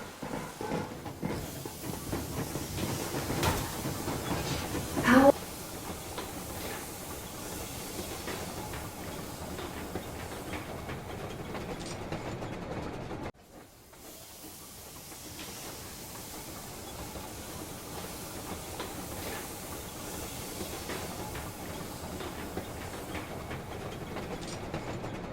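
Steam locomotive Yermak running in the video game Metro Exodus, a steady rolling rumble and hiss of the moving train with a faint rhythmic clatter, a brief louder burst early on and a short drop before the drone resumes.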